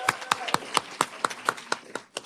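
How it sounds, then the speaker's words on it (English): Town hall audience clapping, about ten evenly spaced sharp claps at a brisk steady pace, close and clear with no voices over them. "Well, you can clap. We'll clap."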